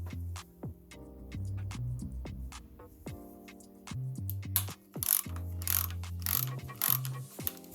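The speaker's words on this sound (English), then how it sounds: "I don't need the ratchet anymore" A hand ratchet loosens a camshaft sensor bolt on a BMW E38 740i's M62TU V8 engine, close-up bursts of rapid clicking that stop and restart, with sharper metallic taps near the end.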